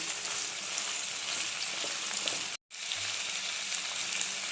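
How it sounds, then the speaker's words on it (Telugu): Broad beans fry in a pan over high heat while being stirred, giving a loud, steady sizzle with a brief break partway through before the frying resumes, close up and with no voices. "ఇప్పుడు స్టవ్ హైలో పెట్టుకొని ఇలా కలుపుకుంటూ ఉండాలి."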